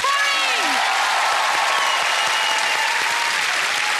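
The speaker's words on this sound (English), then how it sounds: "Big round of applause, everybody, for Kerry!" A game show studio audience gives a big round of applause for a contestant, loud sustained clapping with scattered cheers and whoops throughout.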